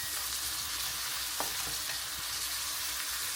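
Peppers and mushrooms fry together in a pan for a Turkish one-pot bulgur dinner, giving a dense, even hiss of sizzling with a couple of faint stirring clicks and no talking.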